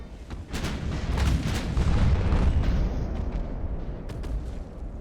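Naval guns with autoloaders fire rapidly in the game Ultimate Admiral: Dreadnoughts, a loud, continuous barrage of overlapping booms and rumbling blasts that rolls on without a pause.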